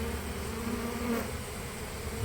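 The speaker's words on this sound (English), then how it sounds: "we'll see if we can catch some bees coming out" Honeybees buzz steadily as they fly out of a huge oak tree, a continuous close, moderate drone that swells slightly midway.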